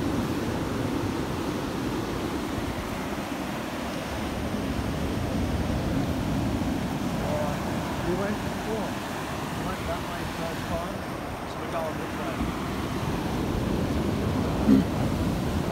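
Loud, continuous roar of surf washing over a beach, steady broadband rush with swelling breakers and wind buffeting the microphone, no clear speech.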